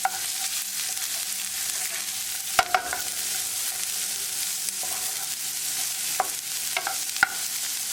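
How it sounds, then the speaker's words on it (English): Onion sizzles in a pan with ginger and garlic, a steady broadband frying hiss with a few sharp scrapes and clicks of stirring scattered through, close and alone with no voices. "Cooking onion for 3 minutes."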